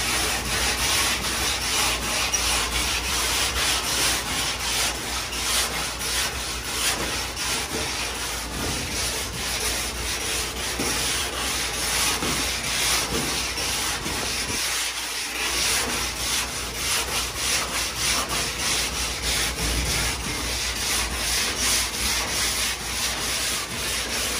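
A fart rock sanding block is worked by hand over body filler on a car body during an automotive restoration. Continuous rough, scratchy strokes rasp loudly and closely for the whole stretch, without pause or talk.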